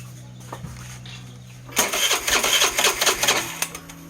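A Suzuki Burgman Street 125 scooter with an idle control fault catches on a touch of throttle. Its small engine chatters unevenly up close after a quiet hum, with loud irregular putters and clattery bursts.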